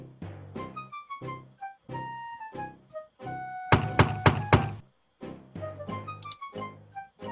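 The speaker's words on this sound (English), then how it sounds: "Let's go knock on the door." A burst of four or five sharp knocks on a door in the Discworld adventure game, loud and close, set amid game music and sound effects.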